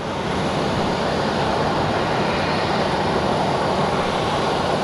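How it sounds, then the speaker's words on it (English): A Southwest Boeing 737 airliner of the 700 series, arriving from San Francisco, flies near Phoenix Sky Harbor, heard as a steady broadband engine roar that holds constant and fairly loud throughout. "we have a Southwest 737 752 or 700 series coming from San Francisco"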